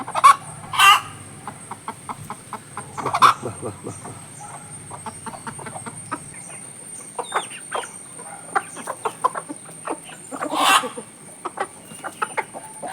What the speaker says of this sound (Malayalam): ഉഷാർ കോഴിയാണ്